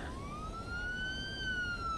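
A steady siren wail with a rising tone that slowly levels off, loud and continuous over a low rumbling background, no talking.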